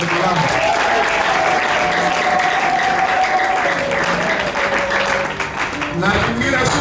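A church congregation applauds at a Sunday service celebrating the church's first anniversary, with sustained dense clapping throughout and a voice or tone holding over it.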